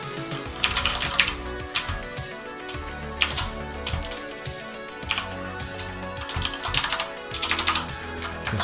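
Fingers type quickly on a computer keyboard to write a short test program, a dense run of close clicky keystrokes with irregular bursts and pauses and no talk.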